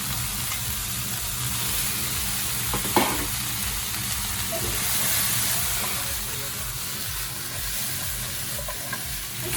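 Beef and vegetables sizzling in a pan for Japanese curry: a steady loud frying hiss and crackle with stirring scrapes and a brief clatter near the middle, no talking.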